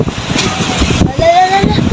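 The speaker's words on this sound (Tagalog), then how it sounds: "Malakas yung hangin ah." Strong wind beside a seawall near a market roars and buffets the microphone, with rough surging noise throughout and faint whistling tones.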